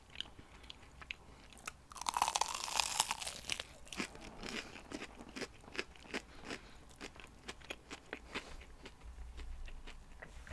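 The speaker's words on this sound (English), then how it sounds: "You can hear how crunchy these are." Crunchy chicken nuggets and chips are bitten and chewed close up, with a loud burst of crackling crunches early on followed by a steady run of softer chewing clicks.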